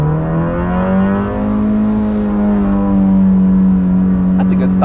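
A Nissan Micra K11 engine revs hard during a Nürburgring lap, a loud, close, steady in-car drone whose pitch climbs slowly and holds high, with no voices over it.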